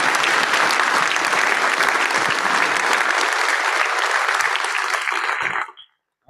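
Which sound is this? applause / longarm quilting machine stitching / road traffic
applause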